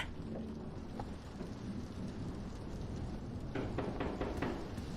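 Steady rain with low rumbling thunder in the Roblox horror game Doors, a dense continuous wash of drops with a few sharper crackles near the end, no voices.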